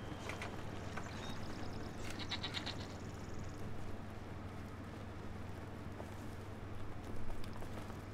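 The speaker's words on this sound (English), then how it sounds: "We must let the goats free." Goats bleating in the video game Brothers: A Tale of Two Sons, a few faint wavering bleats early on over a low, steady background drone.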